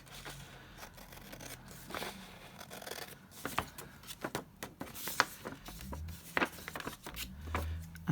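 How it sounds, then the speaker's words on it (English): A cutting tool trims paper in a run of close, crisp snips and rustles with irregular pauses, the paper crackling as it is handled. "So we'll trim that bit off."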